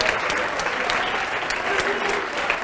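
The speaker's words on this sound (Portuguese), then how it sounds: "Vamos aplaudir mais ao nome de Jesus." A church congregation applauding in praise, sustained loud clapping from many hands filling the room without pause, with voices faintly mixed in underneath.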